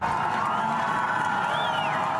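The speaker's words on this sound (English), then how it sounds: "With cheering crowds greeting him, Russian President Vladimir Putin made his first visit since Russia annexed Crimea from Ukraine" Cheering crowds greet Russian President Vladimir Putin on his visit to Crimea, a dense, steady roar of many voices at moderate distance with no break across the moment.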